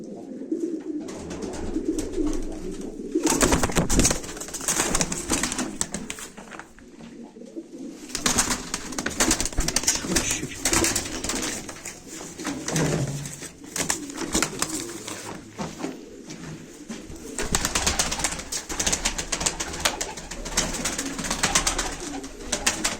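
Live pigeons cooing at a Turkish pigeon auction, steady overlapping coos and wing flutters fill the space close by, with loud bursts of activity coming and going throughout.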